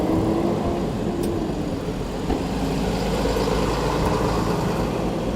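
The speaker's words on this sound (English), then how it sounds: "The big truck, they're racing up to the stop sign." A big truck on a city street rumbles loudly and continuously as it speeds toward a stop sign, a steady heavy engine drone heard close up with traffic noise around it.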